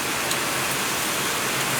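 Steady rain falling outdoors at a grandparents' house in Phan Thiet, Vietnam, a dense, even, loud wash of drops with no pauses.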